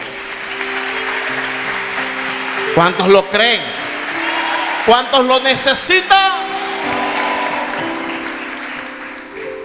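A church congregation applauds and cheers with shouts and whoops, the crowd noise swelling in bursts as a preacher's voice rises over it with questions amid lingering music.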